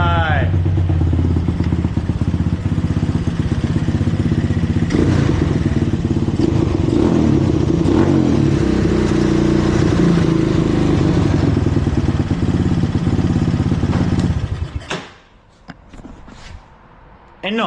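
A quad bike engine idles loud and close, rising in a few revs with some clatter and thumps, then cuts off abruptly near the end, leaving quiet.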